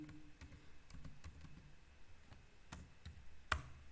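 Soft, faint tapping on a computer keyboard while working in RStudio, a short irregular series of light key clicks ending in one sharper click.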